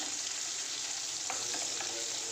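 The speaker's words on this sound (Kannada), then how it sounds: "ಸ್ವಲ್ಪ ಈರುಳ್ಳಿ ಹಾಕ್ತಾಯಿದ್ದೀನಿ. ಈರುಳ್ಳಿ ಸ್ವಲ್ಪ ಗೋಲ್ಡನ್ ಕಲರ್ ಬರಬೇಕು," Onions frying in a pan for Andhra-style pappu sambar give a steady, moderate sizzle with a few soft stirring clicks near the end, no voices.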